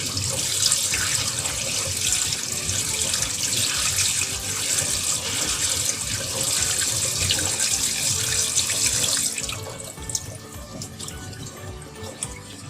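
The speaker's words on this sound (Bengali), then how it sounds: "এখন এটাকে আমি একটা ছাঁকনিতে ছেঁকে নেব এবং ঠান্ডা পানিতে ধুয়ে নেব।" Boiled pasta is rinsed in a strainer under a cold running tap, a loud steady gush of water close by that drops to lighter splashing and drips near the end, with no voices.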